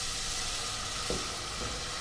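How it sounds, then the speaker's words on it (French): Chicken broth goes into a hot roux for a Tuscan chicken lasagne, with a steady loud sizzle and hiss throughout and a couple of faint stirring knocks. "maintenant, je vais ajouter mon bouillon de volaille"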